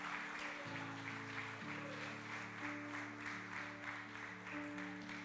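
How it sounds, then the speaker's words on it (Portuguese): A church congregation applauds during an evening worship service, soft rhythmic clapping pulses over sustained background music, quiet and distant throughout. "você pode aplaudir o Senhor Jesus?"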